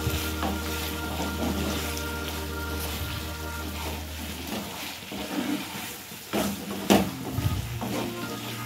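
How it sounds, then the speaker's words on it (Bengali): Chicken pieces sautéing with red chili powder in a pan, with a steady broad sizzle under low hum and a few scraping stirs and clinks of the utensil against the pan. "এরপর আমরা এর মধ্যে দেবো লাল লঙ্কার গুঁড়ো, দিয়ে আবার আমরা ভালো করে এটিকে কষিয়ে নেব"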